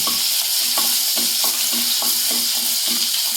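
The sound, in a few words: crushed garlic frying and stirred in pan with mustard seeds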